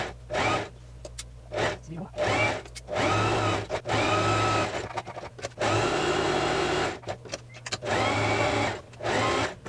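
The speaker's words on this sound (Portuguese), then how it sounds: "Vou costurar toda a volta." Stitching around the cuff of a puff-sleeve blouse, a sewing machine runs in repeated bursts of steady whirring, each a second or two long, with brief pauses between them.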